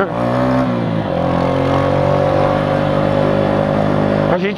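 A delivery rider's motorcycle engine hums loudly and close while riding, a steady droning tone that holds its pitch with slight shifts and then rises near the end.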